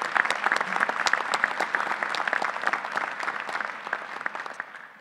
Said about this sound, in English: Let's give another round of applause to all the publications winners.